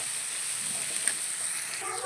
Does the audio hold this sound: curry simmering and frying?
yes